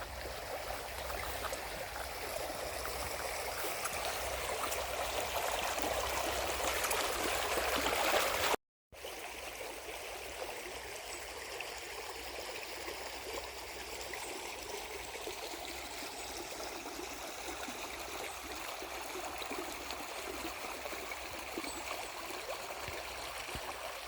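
Stream water flows continuously in a steady, full rushing murmur close by, uninterrupted apart from a momentary cut, with no voices over it.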